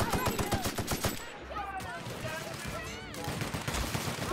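Gunfire from a weapon in The Outer Worlds video game, a rapid burst of sharp shots at the start and again near the end, with game sounds and voices in between.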